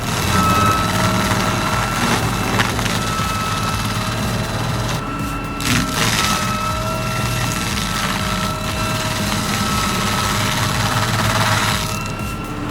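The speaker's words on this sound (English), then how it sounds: "this Seco grinder is backed by a 300-plus horsepower tractor" A Seco stump grinder driven by a 300-plus horsepower tractor during tree work makes a continuous heavy engine drone with grinding noise, loud and steady, with brief bursts of louder chatter.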